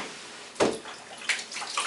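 A strawberry-scented Lush bath bomb drops into shallow bathwater with one quick splash, then a soft, low fizzing wash carries on at close range.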